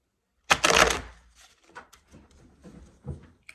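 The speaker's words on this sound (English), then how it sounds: "One last shuffle." Crisp riffling bursts of a card deck being shuffled, one loud flurry followed by a few softer shuffling rustles and taps, close by.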